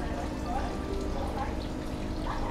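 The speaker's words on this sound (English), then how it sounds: "so now it's time to fill up the water" Water pours steadily into a freshly drained aquarium tank being refilled, a continuous rushing stream that holds at one level throughout with no pauses.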